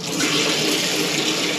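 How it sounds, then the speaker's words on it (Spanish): Water runs hard from a camper van's sink tap, a steady, loud full-band rush under high pressure that holds without pause. "Pues ya tenemos agua."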